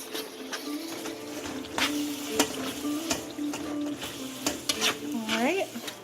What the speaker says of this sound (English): I'm going to mix that up, and then I'm going to let it simmer for about 10 minutes